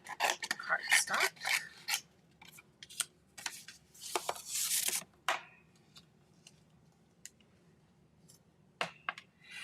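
Scissors trimming cardstock for a handmade Valentine card make quick, close snips and rasping cuts in irregular bursts, with softer paper rustles between them and long quiet gaps.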